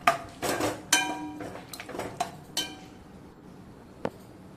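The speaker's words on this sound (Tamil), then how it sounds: "இப்போது இதில் வந்து நான் அந்த கிரேவி எல்லாத்தையுமே மிக்ஸ் பண்ணி நல்லா கொதிக்க விட போகிறேன்." Metal utensils clink and scrape against a cooking pot as rajma (kidney bean) gravy is stirred and mixed, a run of sharp close clatters followed by quieter scraping and one last knock.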